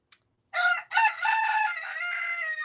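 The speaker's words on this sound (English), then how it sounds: "Incoming bird song." A rooster crows loudly and close by in one long, drawn-out call after a short opening note, with no talk over it.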